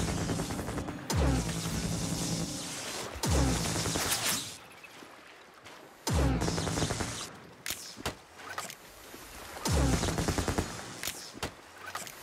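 Turrets in a Minecraft modpack fire in repeated loud bursts of rapid gunfire, each lasting a second or two, separated by short lulls with faint clicks and movement.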